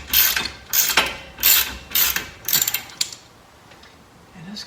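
A wrench ratchets against a snug castle nut on the suspension of a 2013 Toyota Avalon, five or six close, crisp clicking bursts in a steady rhythm, then a quieter stretch at the end.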